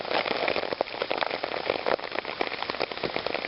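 Rain falls steadily outdoors, a dense close patter of drops with scattered sharper taps, and no voices.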